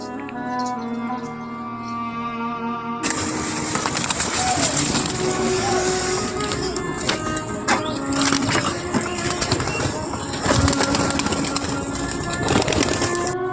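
Pigeons coo softly in the background on a rooftop as a pigeon net is opened, amid outdoor rustling and clatter, with a steady hum throughout.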